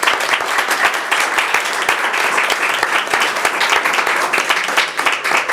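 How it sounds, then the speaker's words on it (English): An audience at a school district board meeting applauds an award-winning teacher, a steady, loud burst of many hands clapping throughout, with no talk over it. "let's give him a round of applause"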